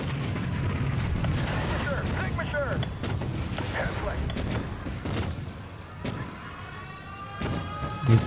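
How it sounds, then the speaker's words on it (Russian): Cannon fire battering a building during a city assault in the video game Spore, a series of heavy booms and crashing impacts with rumbling debris, loud and close, while someone talks over it. "Пушка ломает наше сооружение."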